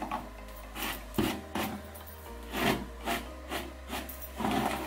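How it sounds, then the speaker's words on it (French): A comb brushing through hair close to the microphone, a series of soft rhythmic rubbing strokes, roughly one per second, with no talking. "Je viens de finir de me brosser tous mes cheveux"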